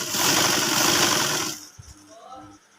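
A sewing machine stitches a ladies' cuff, running loud and close in a fast steady rattle for about a second and a half before stopping, followed by faint handling sounds.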